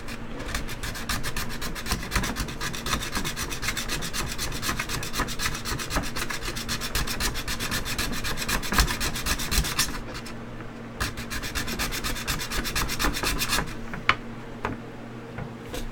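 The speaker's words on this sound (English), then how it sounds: "Somebody let me know how the sanding sounds." Steady, raspy sanding on wood, close and continuous with quick back-and-forth strokes, easing off in brief pauses near the end.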